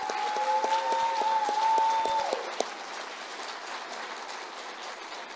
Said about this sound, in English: Let's give our North Colorado Springs Rotary one more round of applause.